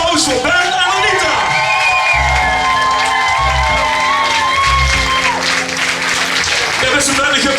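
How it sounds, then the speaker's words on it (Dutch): Loud, dense applause with whoops and cheering from a gala audience at a farewell for Ben and Anita, running steadily for the whole stretch with tonal music-like sounds beneath. "En een geweldig applaus voor Ben en Anita."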